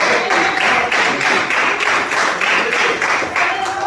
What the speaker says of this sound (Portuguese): Pode aplaudir o Senhor com as palmas do Senhor, mas bem forte as palmas.